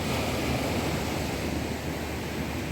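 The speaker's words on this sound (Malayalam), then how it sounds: "തിരമാലകൾ അടിച്ചുകൊണ്ടിരിക്കുന്നു" Sea waves crash at Vizhinjam fishing harbour in Kerala, heard as a loud, continuous roar of surf mixed with wind buffeting the microphone, steady and close for the whole clip, with no voices.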